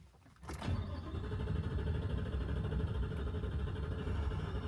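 A 2021 Ford F150 with a Whipple supercharger cranks and catches, then settles into a loud, steady rumbling idle up close, with no talking over it.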